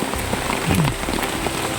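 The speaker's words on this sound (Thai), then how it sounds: "ฝนตกมาแบบไม่ได้ตั้งตัวเลย" Sudden heavy rain pours down steadily, drumming densely and loudly on surfaces close by, with no voices.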